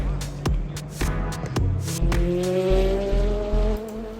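Race cars at the 24 Hours of Le Mans circuit rush past one after another, engines roaring loud and near with sharp passing swells and a rising whine, over a steady background of more distant cars.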